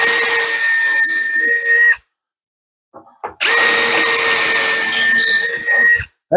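A power drill drives screws into a new drawer face on a bathroom cabinet, close and loud, two long whining runs split by a pause holding a few soft knocks.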